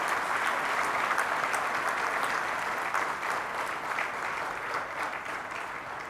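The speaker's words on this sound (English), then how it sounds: "please give a big round of applause one more time" Audience applause at an award ceremony for the AIMA Managing India Awards 2016, a steady, dense clapping from a large crowd that holds strong throughout and fades slightly toward the end.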